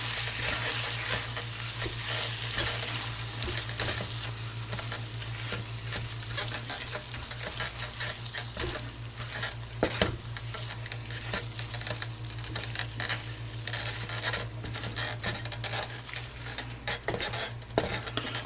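A bison burger patty melt with cheese fries in a pan, a steady crackling sizzle with scraping stirs and occasional clinks of utensil on pan, close and continuous.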